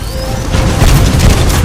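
Loud, booming explosions from the video game Titanfall 2 on PS4 Pro, a dense continuous rumble with crackling bursts that fills the whole brief stretch with heavy low-end force.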